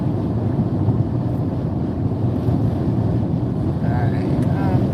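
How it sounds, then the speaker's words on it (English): Strong wind buffets a vehicle driving westbound on the I-4 highway, a steady loud roar of wind and road noise lasting throughout without pause. "It is Very windy."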